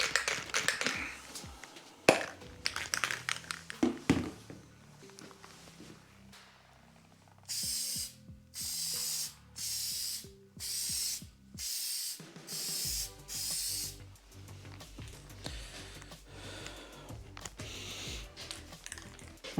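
Spray can applying light coats of paint to truck badges, a series of about seven short hissing bursts with pauses between, preceded by rattling and handling noises, all close and fairly quiet.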